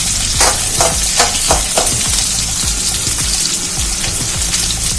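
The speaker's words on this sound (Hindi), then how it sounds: "अब हम शिमला मिर्च को सौटे करेंगे।" Capsicum and onions sautéing in a pan, loud continuous sizzling with stirring scrapes and spoon knocks throughout, close up and without talk.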